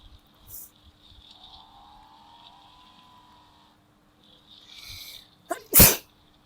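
One loud, close sneeze erupts near the end after a stretch of soft game engine drone, standing alone without talk during an offroad driving game session.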